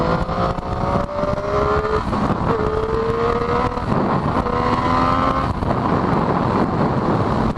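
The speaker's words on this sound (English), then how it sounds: "It's always fun when opening up the throttle. The engine comes alive" A Triumph Daytona 675 sports motorcycle revs up on a coastal road, its engine climbing in pitch through gear changes, loud and close under steady wind rush.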